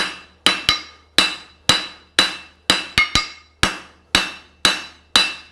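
Forging hammer striking a horseshoe on the anvil, about a dozen sharp ringing metallic blows at a steady pace, some in quick doubles, each ringing out briefly before the next, close and loud with no talk.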